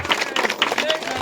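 Applause from an audience at a Congress party government event thanking the chief minister, a short spatter of hand claps mixed with talking voices throughout.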